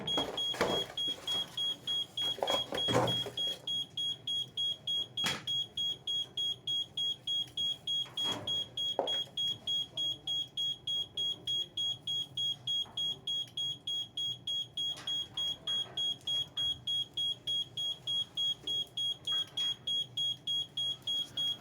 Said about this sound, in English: you'll hear the bells going constant as well as the sounders